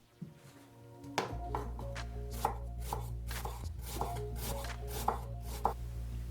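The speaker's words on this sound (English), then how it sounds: "Cut the vegetables, a few salad leaves, 1/3 of cucumber, 1 tomato, ½ an onion" A knife chopping cucumber, tomato and onion on a cutting board, about a dozen crisp, evenly spaced chops over a low steady hum, close and clear with no talking.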